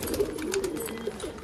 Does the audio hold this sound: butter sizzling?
no